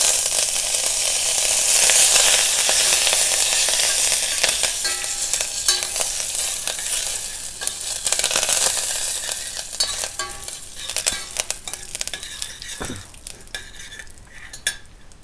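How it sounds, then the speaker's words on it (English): Curry leaves hit hot oil with a loud, crackling sizzle that bursts at first and then slowly softens. Scattered utensil clinks and scrapes run through it, close and without voices. "And I'm going to add some curry leaves."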